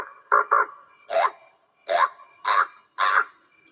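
A man imitates a raven with six hoarse, croaking caws, delivered as a quick pair followed by four single calls with short pauses between them, close and clear against silence.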